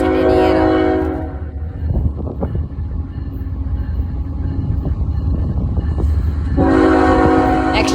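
Norfolk Southern L70, a local freight out of Blair's Yard in Fostoria, Ohio, sounds its horn loudly, then rumbles past with a steady roar of rolling cars before a second long horn blast, no talk.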